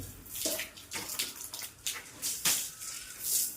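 Water is splashed and poured by hand to wet newly laid brick construction on a building site, coming in irregular nearby splashes and trickles with small breaks between them, no talk.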